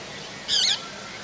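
A single short, harsh parrot squawk rings out close by at an aviary, sharp and bright, with quiet surroundings before and after.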